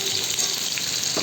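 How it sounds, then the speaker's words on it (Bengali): Onions frying in a pan for a homemade chicken curry give off a brief, close, continuous sizzle and hiss, with no voices. "এটা পেঁয়াজ ভাজা দেখি বন্ধুরা"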